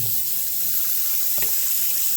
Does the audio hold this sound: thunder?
no